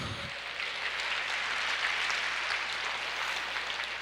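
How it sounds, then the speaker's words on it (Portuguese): A church congregation applauds in praise, a steady wash of clapping from many hands that holds at an even, moderate level from start to finish. "Aplauda o Senhor, diga eu creio"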